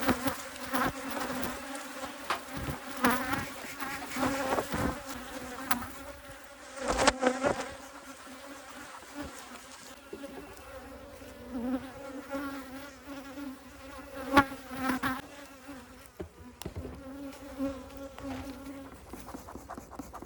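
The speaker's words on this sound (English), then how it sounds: "These bees are straight up lighting me up" Honey bees buzz densely around an open queen-rearing nuc hive in Texas, a steady close swarm drone with individual insects whining past the ear, no talk.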